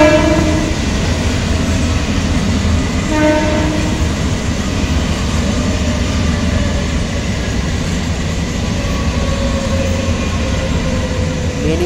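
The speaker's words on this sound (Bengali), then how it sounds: "34056 down Budge Budge local Shyamnagar rail station 4 নম্বর প্ল্যাটফর্মে আসছে।" The Budge Budge down local train arrives at platform 4 of Shyamnagar railway station, rumbling loudly and steadily with clattering wheels and short horn-like tones, close and continuous.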